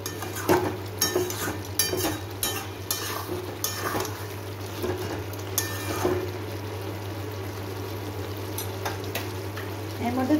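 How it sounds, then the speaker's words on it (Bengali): Chicken curry cooked in its own juices without added water, stirred in a pan with a utensil scraping and clinking over a steady sizzle of frying meat, close and continuous. "এবার খুলেই এটাকে কষাবো।"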